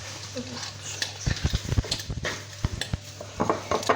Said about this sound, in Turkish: Böyle sosislerimiz pişiyor arkadaşlar.